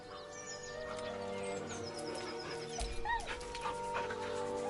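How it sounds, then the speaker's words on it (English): A dog whimpers nervously, giving a run of thin, high whines that rise and fall over a steady low background hum, fairly close and continuous throughout. "The dog whimpers nervously, as if to urge you on."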